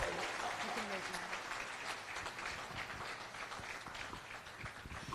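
An indoor crowd at a tenpin bowling tournament applauds steadily for the afternoon's runner-up, a dense, sustained clapping that continues throughout while an announcer's voice talks over it.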